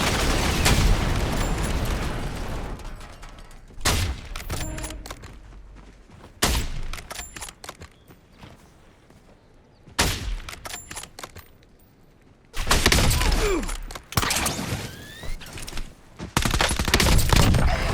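Gunfire and explosions from a Warzone match come in repeated loud bursts of rapid shots and booms, separated by quieter gaps, with no speech.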